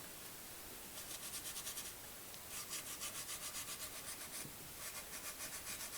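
Bisque-fired pottery with sharp edges being smoothed by light hand rubbing, giving soft, close, rhythmic scratchy strokes in several short bursts with brief pauses between them.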